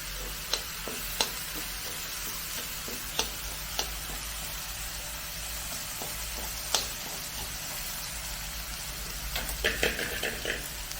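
Ash gourd pieces stir-fry in a pan for thoran, a soft steady sizzle punctuated by occasional sharp clicks and scrapes of a spoon, with a brief cluster of stirring knocks near the end.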